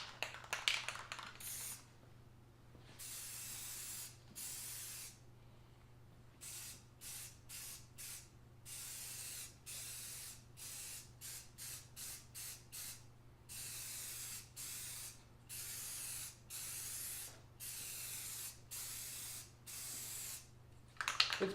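Dupli-color spray paint hisses from an aerosol can onto interior trim in a ventilated space, about a dozen short bursts in a rhythmic series separated by brief pauses, close and fairly loud.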